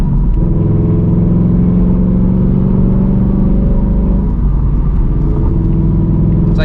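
A Ford S650 Mustang GT with an H-pipe and active exhaust rumbles loudly and deeply, its engine note rising and falling as it revs steadily, close and continuous with no voices.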